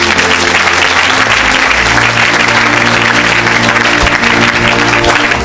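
A church congregation applauds loudly and steadily throughout, a dense wash of clapping from many hands with faint crowd murmur beneath.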